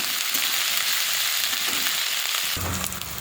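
Ginger frying in a pan with chopped onion for a village-style mustard and poppy seed dish, a constant close sizzle with stirring scrapes, intensifying near the end.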